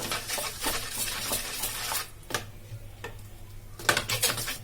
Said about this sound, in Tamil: எண்ணெய் ஊத்திட்டு நல்லா மிக்ஸ் பண்ணிடலாம்.